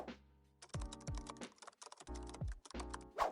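Fingers type on a computer keyboard in quick, uneven bursts of close, crisp keystrokes separated by short pauses, with no voices.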